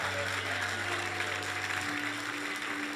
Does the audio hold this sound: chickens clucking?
no